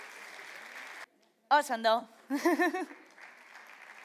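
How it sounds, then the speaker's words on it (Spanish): A gala audience gives a final round of applause for the prize winners: a brief, fairly soft patch of clapping that breaks off, followed by a person speaking, then faint clapping resumes underneath. "venga, último aplauso para ellos, por favor"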